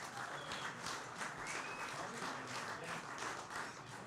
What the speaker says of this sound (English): Please, round of applause for Lewis Jetta.